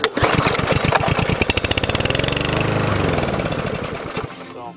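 A Troy-Bilt lawn mower engine running loud and close, its rapid firing pulses steady before the revs sag and the engine winds down to a stop near the end.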